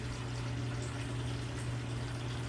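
Coolant drains from an LS engine in a steady, continuous trickle and gurgle with a low hum underneath, close and unbroken throughout.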